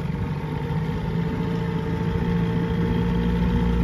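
An old Johnson 6 HP outboard boat motor runs steadily, a continuous droning engine hum with even loudness, close by and alone with no talk.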